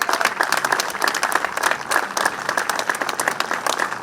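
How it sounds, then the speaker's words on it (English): Enthusiastic applause from a crowd at an outdoor street naming ceremony, dense steady clapping that carries on throughout without pause. "So let's have another round of applause for Monica."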